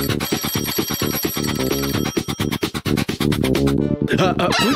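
A cartoon telephone bell rings in rapid repeated bursts, loud and close, with a brief pause before ringing resumes.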